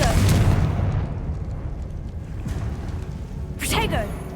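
A Confringo spell explosion in Hogwarts Legacy lands as a loud, rumbling blast at the start that fades into a low roar, and a second burst follows near the end.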